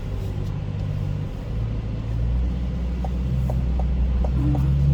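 Chevrolet C8 Corvette in a racing video game, a steady engine rumble building as it accelerates, with quick gear changes, heard alone without talk.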